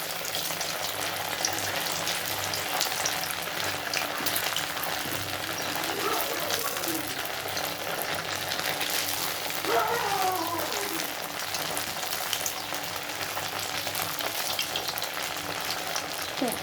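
Pieces of cabbage paneer frying in oil until reddish, a dense crackling sizzle that holds steady throughout with occasional stirring, while a voice speaks faintly in the background at times.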